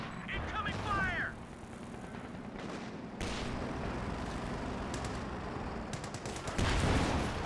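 Gunfire crackles in a Company of Heroes 2 battle, scattered shots and bursts with some heavier hits under a rumbling backdrop, while voices talk over it.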